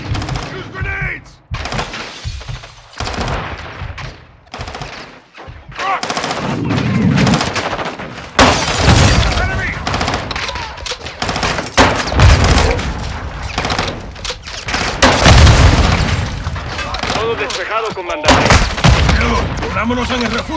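Dense gunfire from Call of Duty Modern Warfare 2 on Realism difficulty: continuous rifle and machine-gun bursts with heavy booms from grenades, loud and chaotic throughout, with shouted voices occasionally over the combat.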